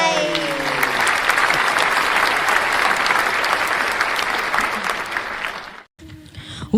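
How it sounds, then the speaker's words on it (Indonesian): Children at a Christmas celebration applaud in a steady, dense burst of clapping that carries for several seconds, with a few voices mixed in, before cutting off abruptly near the end. "Wah, tepuk tangan"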